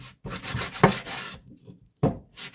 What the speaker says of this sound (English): And now I'm going to sand the corbels.